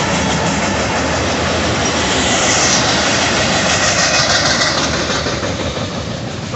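A northbound BNSF freight train on UP trackage rights rolls past, led by locomotives BNSF 8167, BNSF 4886 and UP 5880, making a loud, steady roar and rumble that holds throughout with no voices.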